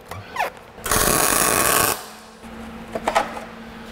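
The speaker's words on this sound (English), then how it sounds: "Well, no gas means dirty weld." A MIG welder running without shielding gas on a rusty car body, a loud crackling hiss burst of about a second followed by shorter sputtering pops, close up.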